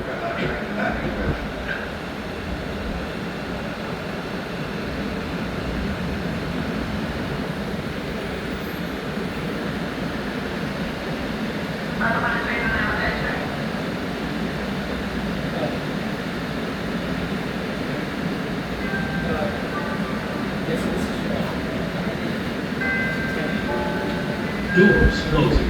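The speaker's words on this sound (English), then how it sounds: "We got that red line train arriving in the inside track." A Red Line train pulls into the inside track at a station, a long steady rumble of rolling cars with squealing wheel and brake tones, heard from nearby at platform level over general station ambience.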